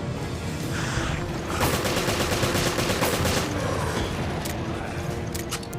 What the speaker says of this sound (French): t'as les balles, elles fusent